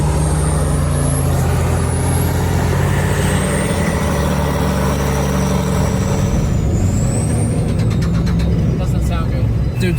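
A truck with poor grip churns through deep snow, its engine droning low and steady for the full ten seconds with a few brief hissing bursts, while a voice talks over it.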